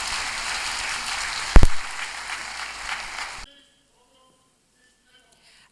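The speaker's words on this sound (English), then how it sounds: "another round of applause as we have unveiled ECOWAS at 50" Audience applause at an ECOWAS 50th anniversary ceremony in Ghana: dense, steady clapping with a loud thump midway. It cuts off abruptly to near silence for the last couple of seconds.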